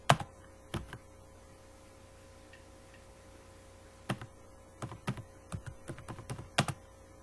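Typing on a computer keyboard while writing C++ code, producing sparse clusters of quiet close key clicks separated by a long silent pause, then a quicker burst of taps near the end.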